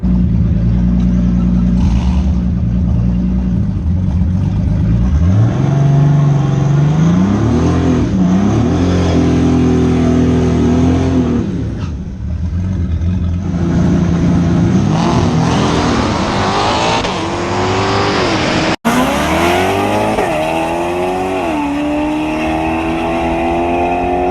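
A Nissan 280ZX engine revving hard on a dyno, loud and close, with repeated climbing and falling engine pitch sweeps over a sustained roar, a sharp break near the end, then another rising pull.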